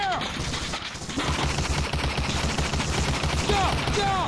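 Dense, continuous covering gunfire in the World War II shooter Medal of Honor: Allied Assault, overlapping rifle and machine-gun bursts rattling steadily at close range with no pauses, a few whistling ricochet-like tones cutting through.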